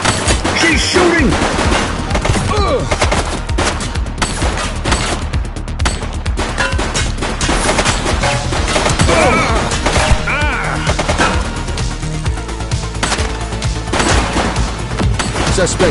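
Gunfire in a police video game: dense, rapid bursts of shots and automatic fire pound almost nonstop, loud and close, with cracks and impacts layered throughout.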